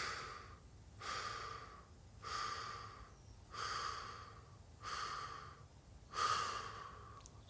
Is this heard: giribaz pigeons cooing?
no